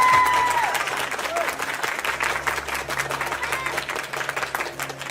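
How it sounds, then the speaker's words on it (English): An audience at a poker tournament final table in the Bahamas applauds the runner-up, a sustained burst of clapping with some crowd noise that holds steady for several seconds. "let's get a quick round of applause for our runner-up, Cliff Josephine."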